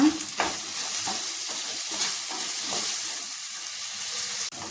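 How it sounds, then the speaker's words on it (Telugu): Spices stirred into a hot oil pan while cooking vegetable biryani, with a steady frying sizzle and scraping stirs throughout, close and continuous, with no talking. "ఉప్పు ఒక హాఫ్ స్పూన్ ధనియాల పొడి ఒక స్పూన్ కారం వేసుకొని కలుపుకున్నా"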